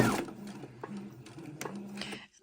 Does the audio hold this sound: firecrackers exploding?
no